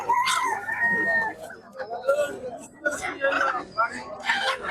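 Chickens and roosters cluck and crow at a rural poultry market in Gaibandha, Bangladesh, with people talking over the birds close by.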